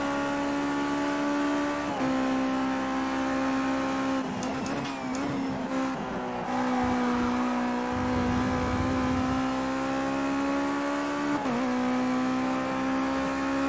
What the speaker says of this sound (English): Over revving my engine like a dipshit.